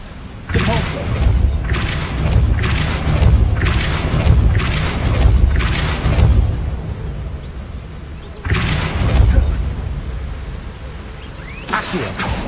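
Repeated Depulso force-push spell casts from the video game Hogwarts Legacy: a run of about six loud, broadband booming thuds in quick succession, then a pause and two more blasts, with no talk over them.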